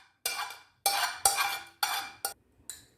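Grated boiled potatoes are tipped into a bowl of kebab mixture, giving a series of six short scraping and clinking bursts of spoon against bowl, close and crisp, with quiet gaps between.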